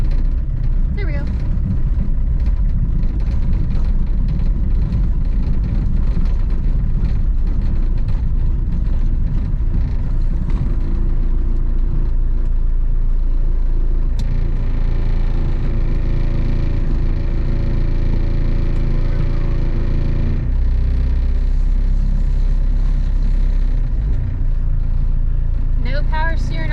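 A 1981 VW Dasher diesel car driving, with a loud, steady low engine drone and road rumble filling the cabin throughout. Someone talks over the noise.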